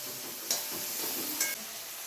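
Small onions sauté in a pan for a Kerala-style beef curry, making a continuous close hiss with two brief louder bursts of sizzle, and no one speaking.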